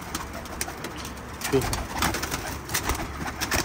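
Pigeons kept as pet birds coo and flutter nearby, a low soft cooing mixed with general bird chatter, while someone talks over them.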